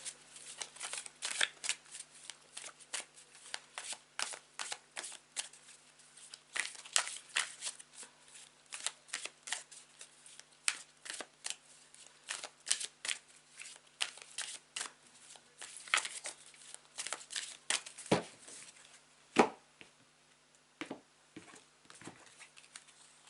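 A tarot deck shuffled by hand, with quick repeated riffles and soft card slaps close up in a quiet room, with no talking.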